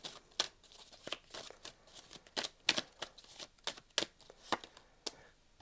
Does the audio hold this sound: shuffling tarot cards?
yes